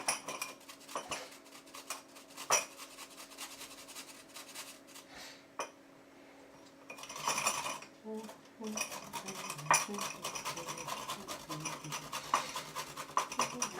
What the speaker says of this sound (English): I'm just going to grate that in.